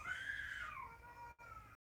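A child screams in the background at a live-streamed home gathering, a high wailing cry that rises, bends downward and then trails off into a lower sustained tone, heard alone without talk.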